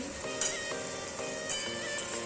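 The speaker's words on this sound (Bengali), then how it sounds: "এখানে প্রথমে রসুন থেতোটা দিয়ে দিচ্ছি" Crushed garlic sizzles quietly in a pan with fried potatoes, a low steady hiss broken by a few soft scraping strokes.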